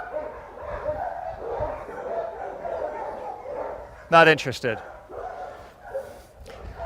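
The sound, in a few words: dog in training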